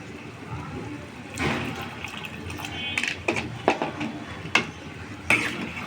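Broth is poured into beef curry cooking in a pot, giving a quiet splash and sizzle followed by several sharp clinks and scrapes of a utensil against the pot.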